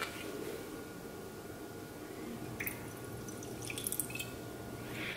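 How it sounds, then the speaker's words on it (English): A lemon squeezed by hand for a hair mask, producing soft wet drips and squishes close by, faint and irregular over a quiet background. "You can either juice it or just dry squeeze it like this."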